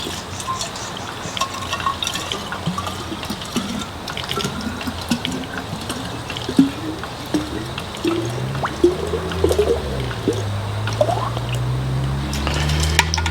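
Mineral water pours from a container into another vessel at a campsite, a continuous splashing trickle whose pitch climbs in the final seconds as the vessel fills.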